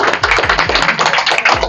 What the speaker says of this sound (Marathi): त्यांच्यासाठी पण सर्वांनी जोरदार टाळ्या वाजवा.